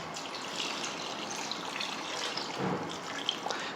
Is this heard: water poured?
yes